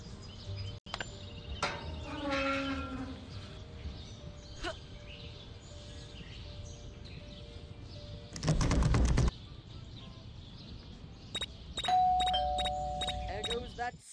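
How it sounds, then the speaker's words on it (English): Doorbell chimes in the Scary Teacher 3D video game, with a sharp buzzing ring and later a few bright repeated tones, sounding over game ambience and a voice speaking. "There goes that stupid bell again."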